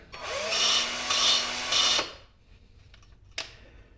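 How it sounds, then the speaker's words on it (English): A power drill grinds Hemi V8 cylinder head valve seats in three short bursts, rising in pitch, then stops, followed by faint clicks and a small knock. "we are just going to attach our drill and very gently"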